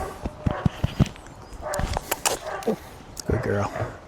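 A dog whimpers and gives short yips and barks while playing frisbee tug during a training session, close and intermittent, mixed with a person talking and scuffling movement.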